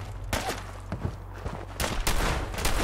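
Sharp separate gunshots in the video game Fallout 4, a few spaced cracks early on followed by denser fire in the last second, moderately loud over a low background hum.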